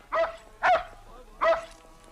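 Buck the dog lets out three loud, close barks in an uneven rhythm, each a short sharp bow-wow with a brief pause between them.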